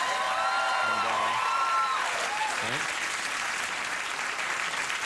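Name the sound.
studio audience applause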